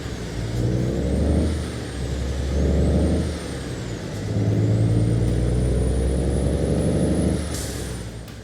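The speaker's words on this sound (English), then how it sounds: "the default engine sound is really good. Listen to this." A video game truck engine, a Harven HX520 in American Truck Simulator hauling double trailers, drones and revs in repeated swells, with a high whine rising and falling and a brief hiss near the end.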